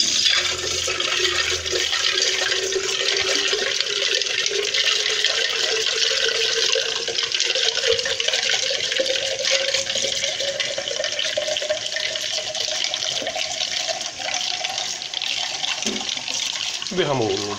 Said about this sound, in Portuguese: Agora colocar o resto da água.